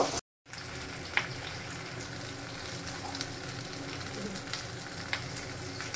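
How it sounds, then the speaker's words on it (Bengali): Paneer masala sizzles and fries steadily in a pan while being stirred now and then, a close, continuous crackle with a few brief spatula scrapes and no talking. "নেড়ে চেড়ে নেব।"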